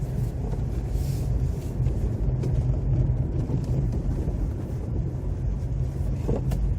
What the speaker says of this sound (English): There's a lot of boat noise